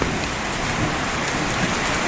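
Heavy rain pouring down on an outdoor fish-pond site, a dense, even hiss of drops filling every moment with no breaks or voices.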